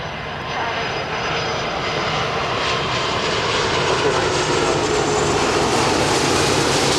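A Virgin airliner lands on Heathrow's runway 27 left, its jet engines producing a loud, steady, broad roar that swells slightly over the seven seconds with no voices over it.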